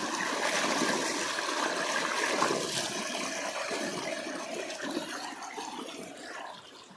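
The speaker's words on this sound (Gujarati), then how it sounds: "મોટર ચાલુ થઈ ગઈ છે અને ખૂબ જ ઠંડુ પાણી આવે છે" Cold, clear well water gushing from a running pump motor on a farm, a steady close rushing flow like a small waterfall that continues unbroken and fades slightly at the end.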